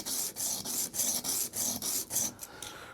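Sanding a handgun front sight by hand to fit its dovetail: a steady, close rasping rub in quick even back-and-forth strokes, roughly three per second, with no talk.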